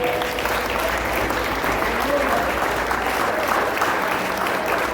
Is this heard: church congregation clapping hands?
yes